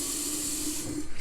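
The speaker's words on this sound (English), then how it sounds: "I'm gonna rinse it and soak it." Tap water runs steadily into a kitchen sink while a mason jar is rinsed, a continuous close hiss and splash with no talk.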